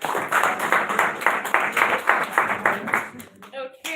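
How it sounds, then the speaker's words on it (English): An audience at a talk on career grief claps in a rhythmic, evenly spaced beat, with voices mixed under it and speech taking over at the end. "Clap for him."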